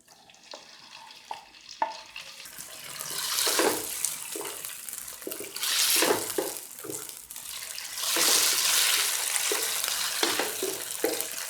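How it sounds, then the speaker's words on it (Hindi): Chicken pieces dropped into hot cooking oil in a cooking pot, a loud close sizzle that swells and holds in waves while the meat is stirred, with occasional scraping and no talking. "ऑयल गर्म हो गया है, इसके अंदर चिकन ऐड कर रही हूँ।"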